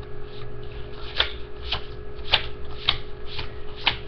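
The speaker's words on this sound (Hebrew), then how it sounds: "אני מתחיל להוריד קלפים" Playing cards dealt one by one off a deck during a card trick, about six crisp, evenly spaced flicks over a faint steady background hum, close and fairly quiet, with no talking.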